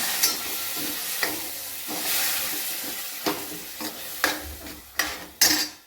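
Half a glass of water poured into hot oil with sesame seeds in a pan for a mixed vegetable bhaji, giving a sustained close sizzle and hiss with several sharp bursts and stirring scrapes throughout.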